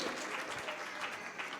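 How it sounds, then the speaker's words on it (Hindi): Audience at a religious discourse session claps in a brief, dense burst of applause, fairly faint and distant, with no voices over it. "एक बार जोरदार तालियां बजा दीजिए।"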